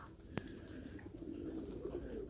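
Pigeons at a dovecote give soft, low cooing in a winter outdoor setting, faint and distant, with one brief sharp click early on.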